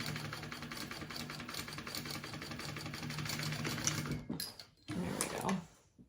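Sewing machine stitching a row along a bag, a close, continuous rhythmic whirring hum that pauses briefly and then restarts for a short final burst.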